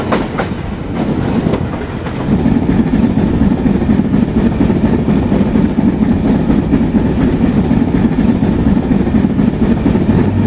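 Kapotaksha Express train rolling through near Fultala railway station in Khulna, a loud steady rumble with rhythmic clickety-clack of wheels on the tracks, heard from on board with no talk.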